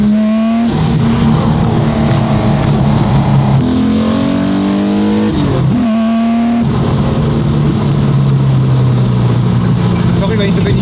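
Car engine pulling hard in third gear through a titanium exhaust, a loud continuous revving roar with rising and falling pitch sweeps and a brief shift dip, close and dominant, with voices talking over it.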